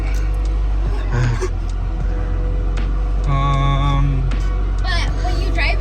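Project car on a test drive, a heavy steady engine and road rumble filling the cabin throughout while people talk over it.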